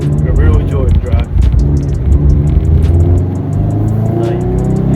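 A Toyota FRS sports car engine revs eagerly, the exhaust note loud and close and rising and falling in continuous revving, with a voice talking over it.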